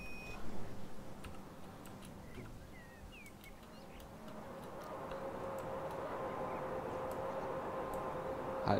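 Beeping door signals sound on a regional RB36 train stopping at Marienwald in Train Simulator 2019, with scattered ticks early on and then a steady tone sustained over a low rumble through the second half.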